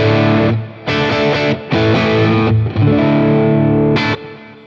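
Electric guitar through a Boss Katana amp with its light-type compressor engaged plays loud distorted chords and sustained notes in short phrases with brief gaps, no talking.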